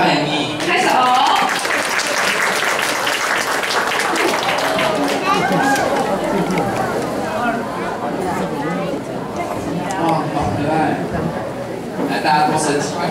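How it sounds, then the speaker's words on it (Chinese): An audience at a Sunday school Christmas celebration applauds to welcome an assistant, a dense, loud wash of clapping mixed with crowd chatter and voices throughout. "掌声欢迎你"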